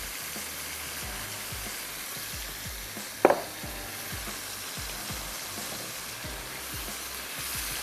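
Meat with browned fried onions and turmeric powder fries in a pot for tikka biryani, a soft continuous sizzle with a single sharp clink of a utensil midway.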